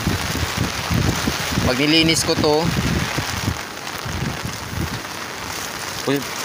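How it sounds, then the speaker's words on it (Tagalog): Rain keeps falling steadily on a rice paddy during a storm, a soft broadband hiss running throughout while someone talks close by. "umuulan pa rin."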